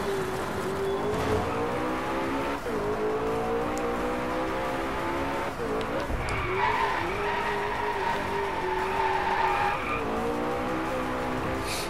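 A car drifts with sustained, loud tire skid and squeal in the DriveClub racing game, its engine droning and shifting pitch underneath throughout.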